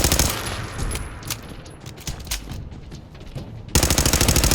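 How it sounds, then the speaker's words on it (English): Rapid automatic pistol fire in the Fallout 4 video game, a dense stream of sharp gunshots throughout, loud and close, ending in a louder, faster burst of repeated shots. "Oh, we'll use the auto pistol."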